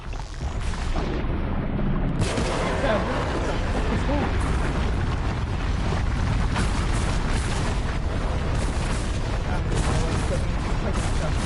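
Explosions in the video game Horizon Zero Dawn, dense loud booming blasts and rumbling that fill the whole stretch, with a person talking over the noise.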